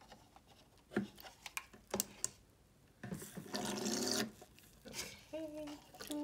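A mini washing machine for beauty blender sponges, running with plain water, gives scattered clicks and drips, then a burst of motor whirring and sloshing for about a second before stopping, close and fairly quiet.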